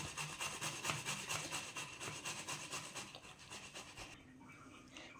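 Potatoes for a prawn potato chop are mashed by hand-rubbing, giving a steady close rasping, scraping rhythm of repeated strokes that fades near the end.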